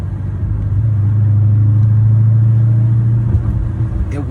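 A Dodge Charger Scat Pack with its mid muffler deleted revs up close by, a loud deep rumbling engine note that swells and holds steady before easing off, heard alone.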